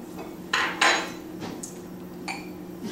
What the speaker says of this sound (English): Can I offer you some tea, Miss Fairfax?